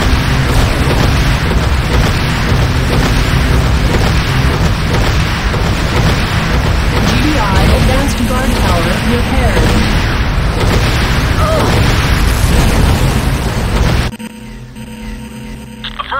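Explosions rock a Nod Obelisk as it is destroyed in the game Renegade, a continuous barrage of heavy booms and bursts rumbling loudly for about fourteen seconds, then cutting off abruptly to quieter ambience.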